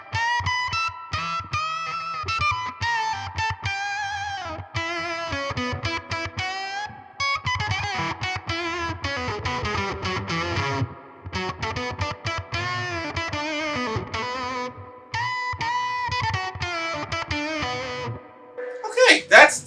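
A Warm Audio Foxy Tone Box octave fuzz pedal heavily fuzzes an electric guitar playing a wandering melodic line with a bright octave-up edge, washed in reverb, ending with a short burst of noise.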